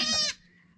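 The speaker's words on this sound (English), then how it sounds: "It's baby goats." A single short, high bleat from a baby goat in a desert village in India, close and clear, fading quickly into quiet.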